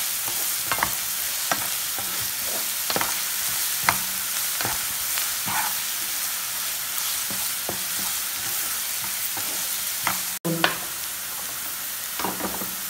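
Onions with salt sauté in a pan, a continuous, fairly quiet sizzle dotted with scattered spoon clicks and scrapes, and one sharp knock near the end.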